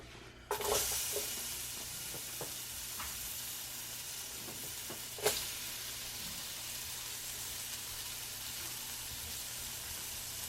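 Gravy for smothered Southern fried pork chops simmering in a pan with vegetables, a soft continuous bubbling sizzle close by, with occasional sharp clicks of a utensil against the pan and no talking.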